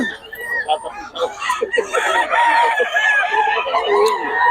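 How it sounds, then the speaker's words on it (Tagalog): Chickens cluck and a rooster crows nearby, with busy overlapping calls throughout and people talking underneath. "Yun yung talaga mga manok ni Boss Perry, mga idol."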